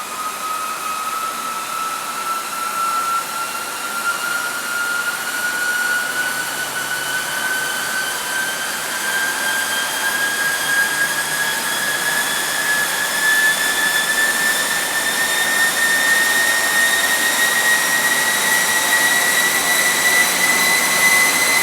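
An electric motor driven by a VESC 75/300 controller runs on a test bench with a loud, continuous high whine whose pitch climbs slowly and steadily over about twenty seconds, over a dense rushing roar.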